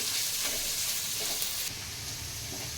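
Onions with curry leaves frying in a pan for a drumstick-leaf palya, a dense continuous sizzle that drops slightly in level partway through, with faint stirring underneath.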